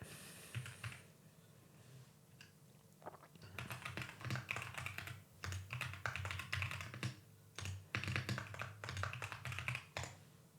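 Computer keyboard clattering as code is typed, quick irregular bursts of keystrokes close by and fairly quiet, with brief pauses between runs.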